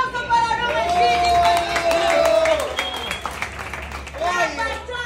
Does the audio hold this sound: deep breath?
no